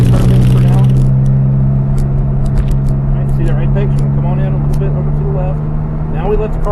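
A car lapping the Atlanta Motorsports Park track, its engine a steady close drone with shifting tonal whine, while a coach's voice gives driving instructions over it almost continuously.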